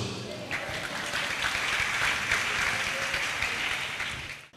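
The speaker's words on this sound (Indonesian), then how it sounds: "aplaus dulu" Audience applause at a pesantren gathering at Pondok Pesantren Sidogiri, a dense, sustained crowd clapping that holds steady for several seconds at close range before cutting off abruptly.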